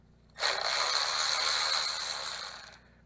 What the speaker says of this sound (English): grab a 13 millimeter And let's pull off rocker arms